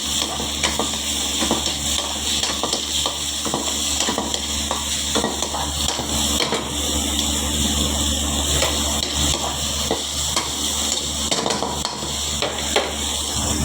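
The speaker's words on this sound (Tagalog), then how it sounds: "Spanish omelette ito. Gisa-gisa lang natin." Ingredients for a Spanish omelette sautéing in a pan, a continuous close sizzle with stirring and scraping clatter running throughout, no voices.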